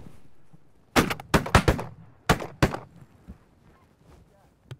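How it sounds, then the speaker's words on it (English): Hunters shoot at birds outdoors, firing several sharp gunshots in quick succession and then two more shots a moment later, each loud and close with a brief echo trailing off. "let's hunker down and shoot a few more"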